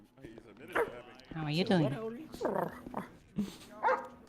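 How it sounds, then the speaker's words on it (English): A female dog trained in German commands barks and whimpers in short yips and whines close by, mixed in with people talking over it. "Yeah, good dog."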